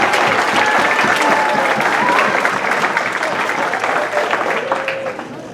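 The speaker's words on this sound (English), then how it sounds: "let's have another round of applause for the sophomores" A spring band banquet audience applauds the sophomores with loud, sustained clapping. A few faint voices and a whistle-like tone run underneath, and the clapping eases slightly toward the end.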